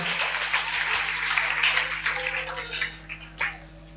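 An audience at a spiritual gathering applauds loudly and steadily, a dense wash of clapping that thins toward the end, with a faint hum underneath.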